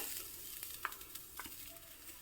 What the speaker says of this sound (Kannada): ತೆಂಗಿನ ತುರಿನೂ ಇದ್ರ ಜೊತೆ ಸೇರಿಸ್ಬಿಟ್ಟು ಚೆನ್ನಾಗಿ ಸ್ವಲ್ಪ ಬಾಡಿಸ್ಕೊತಾ ಇದ್ದೀನಿ